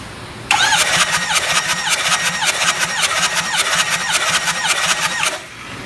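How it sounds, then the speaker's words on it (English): A car engine cranks during a head-gasket leak test, with a loud, steady, rhythmic churning of the starter that runs for about five seconds and then stops, without catching. "I'm gonna go ahead and do one more crank"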